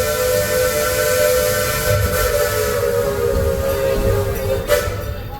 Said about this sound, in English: That would be the choo-choo train being whistly.